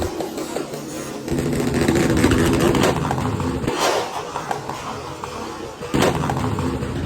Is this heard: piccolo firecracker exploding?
yes